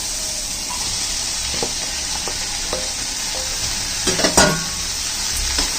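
A dish with kokum sizzles over a medium flame in a pan, a constant frying hiss broken by scraping stirs and a few clinks of a spoon against the pan near the end.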